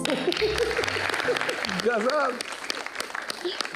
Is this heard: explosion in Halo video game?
no